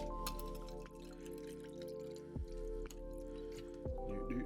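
7 Up being poured into bourbon: a faint, steady trickle of liquid with a few small drips and clinks, quiet and close, without talking.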